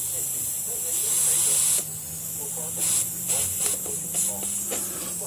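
Air hissing from the valve stem of a lawn tractor tire, a steady broadband hiss that swells and fades in short bursts over a low rumble, close and fairly loud.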